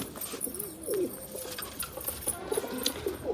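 Pigeons coo softly nearby, with several rounded, repeated calls scattered among faint chirps and light rustling.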